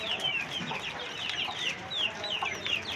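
Farm chicks, desi and aseel, eating their feed make a dense, continuous chorus of high peeping chirps and soft clucks close by, with no speech.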